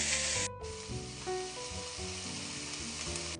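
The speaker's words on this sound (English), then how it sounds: "We're gonna take our chopped onion and add it into a saute pan with some olive oil." Chopped onion sizzling in olive oil in a saute pan, a steady close frying hiss with a brief pause near the start, then continuous crackle and faint music underneath.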